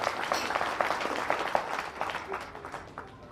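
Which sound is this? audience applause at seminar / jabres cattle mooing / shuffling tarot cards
audience applause at seminar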